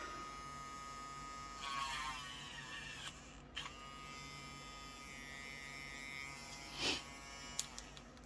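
A small rotary drill boring through a UV resin bookmark, a faint steady high whine and buzz with a few brief surges and clicks as the bit works, quiet and close.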